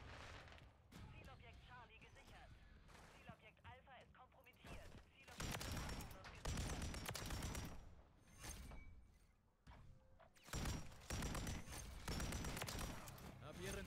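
Gunfire and bursts of fusillade from the video game Call of Duty Modern Warfare III, dense and loud through most of the stretch, with voices talking over the shooting.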